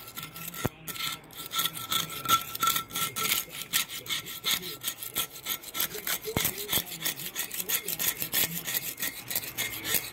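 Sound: scraping blistered paint off an aluminum scuba tank

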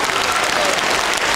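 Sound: audience applause at a charity concert

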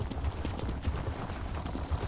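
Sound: horse hooves while riding in video game The Elder Scrolls Online

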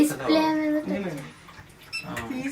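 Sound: hot water running from a tap

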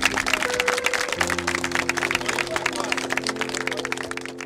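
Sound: applause at a burial

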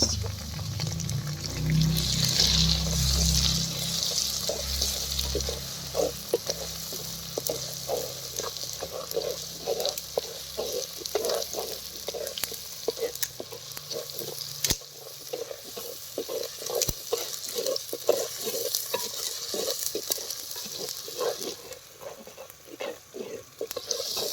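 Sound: sautéing garlic and ginger paste

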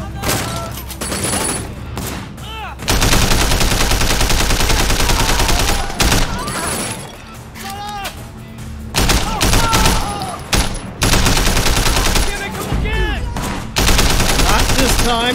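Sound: rifle gunfire from video game Sleeping Dogs

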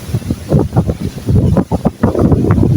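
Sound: strong wind at sea near a boat

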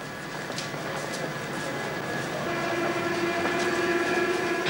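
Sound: Paris metro train running

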